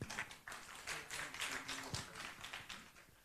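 Faint, scattered clapping from a small audience at a university forum, distant and thin with an uneven rhythm of individual hand claps rather than a full ovation, and a few low background noises underneath.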